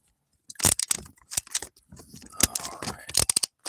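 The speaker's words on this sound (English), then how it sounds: "Reduces the rattling sound if I put the camera up a tad." A camera mounted inside a moving car rattles in quick, irregular bursts of sharp clicks and clatters, fairly faint, with no talking.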